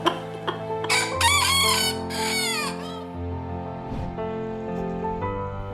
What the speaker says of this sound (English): Roosters get a bad rap for being noisy and aggressive